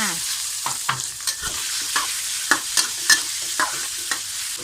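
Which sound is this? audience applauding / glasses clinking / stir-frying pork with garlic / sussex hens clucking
stir-frying pork with garlic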